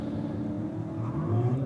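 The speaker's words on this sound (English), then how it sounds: "You can hear that two-step, the LS engine." A VE Commodore street car with an LS engine holds on a two-step launch limiter at a no-prep drag race, a loud steady low rumble and crackle that swells slightly near the end.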